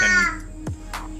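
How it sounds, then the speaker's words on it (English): A baby babbles in the background of a home garage workshop during 2010 Ford Focus spark plug work, brief soft baby vocal sounds rising over a low steady hum. "you may hear a baby in the background from here to there."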